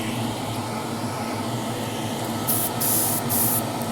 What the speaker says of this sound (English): So stick some paint in the airbrush